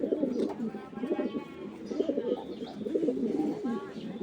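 Pigeons kept for tournament flying coo in low, repeated throaty rolls close by, with someone talking over them and faint chirps in the background.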